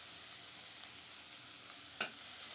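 Grated ginger dropped into a hot pan of sizzling oil while making an okra stir-fry, a steady frying hiss with one brief louder burst of crackle as it lands.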